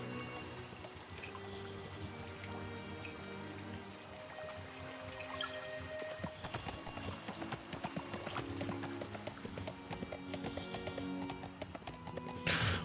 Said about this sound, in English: We all ride our horses here